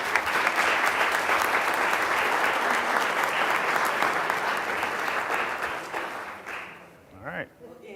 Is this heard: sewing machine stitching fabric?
no